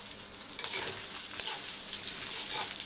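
Continuous bright sizzling of onions frying in hot oil, a steady crackling hiss with small pops, no voices.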